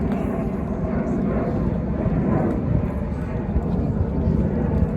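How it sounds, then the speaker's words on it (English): An airplane passes overhead near Reagan National Airport, a steady low rumbling roar that fills the outdoor scene, with a voice speaking over it. "You can hear the plane overhead."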